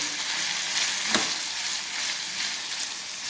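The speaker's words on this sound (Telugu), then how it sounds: "ఇది కూడా బాగా ఫ్రై చేసుకోవాలి." Cauliflower pieces frying in oil with ginger-garlic paste give a steady, close broadband sizzle that runs without a break, with one brief scrape of stirring near the middle.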